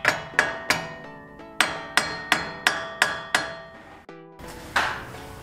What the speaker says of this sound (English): Just barely tap it, not too much. And just do that on the casing, not on the bearing.